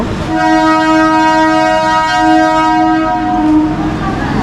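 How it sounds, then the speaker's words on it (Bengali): A Sealdah to Shantipur local train sounds a loud, sustained horn for several seconds as it pulls out of Sealdah railway station, the tone steady and close over rumbling rail noise. "শিয়ালদা টু শান্তিপুর লোকাল রয়েছে এই ট্রেন কিন্তু ছেড়ে দিল"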